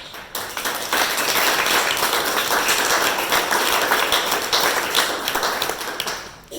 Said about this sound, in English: So Martin deserves a big applause.